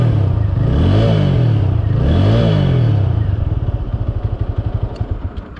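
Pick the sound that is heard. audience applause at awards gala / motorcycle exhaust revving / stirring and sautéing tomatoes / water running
motorcycle exhaust revving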